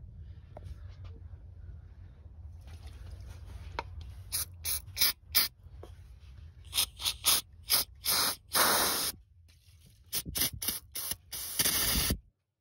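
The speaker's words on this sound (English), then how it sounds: "get some brake clean and just spray it and clean it down" Short bursts of brake cleaner spray hiss repeatedly onto a 2001 Lexus LS430 throttle body, some quick and some longer, close by, mixed with faint mechanical clicks between them.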